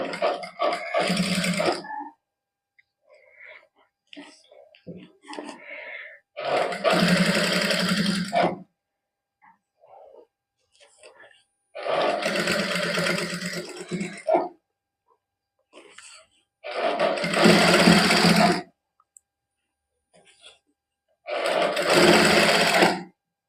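Sewing machine stitching a folded-under sleeve hem for a gota patti lace sleeve design, running in five loud, even bursts of several seconds each, separated by quiet handling pauses.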